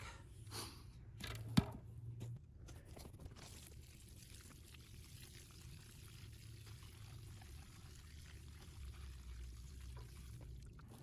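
Water is poured onto loose soil around a newly planted tree, a quiet trickling pour with a brief knock near the start, then a soft, steady flow.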